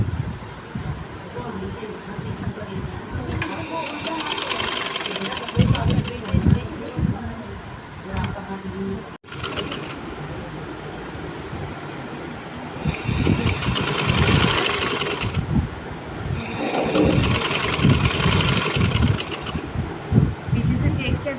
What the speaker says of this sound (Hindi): इस तरह हम स्टिच करेंगे।